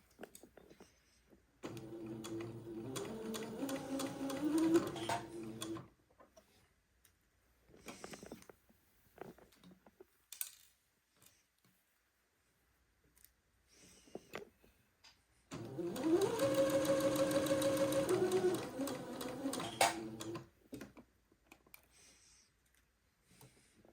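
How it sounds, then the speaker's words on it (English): A sewing machine stitches fabric in two long runs with brief starts and stops, its rapid mechanical whirr loud and close, separated by quiet pauses with light handling clicks. "Go forward and backward a little bit to tack it into place. And then sew, removing your pins as you come to them."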